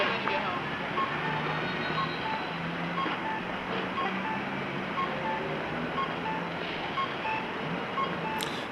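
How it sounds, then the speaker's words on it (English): Pedestrian crossing signal at Berkeley train station on Shattuck during the evening peak, a steady repeating electronic beep pattern ringing through busy street and station noise. "That's the noise the pedestrian crossings make when you cross."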